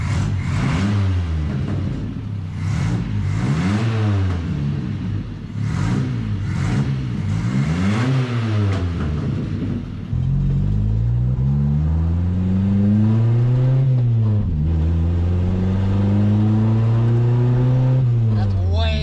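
1979 Chevy LUV pickup truck engine, after a stumble fix, revving in repeated short bursts, then pulling hard through rising and shifting gears while driving, loud and close with steady road and engine roar.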